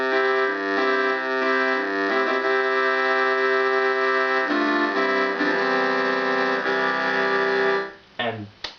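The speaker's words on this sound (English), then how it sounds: "There we have accordion." A Yamaha PS-30 Portasound keyboard on its accordion voice plays sustained, reedy chords close and loud with gradual chord changes, followed by a few clicks near the end.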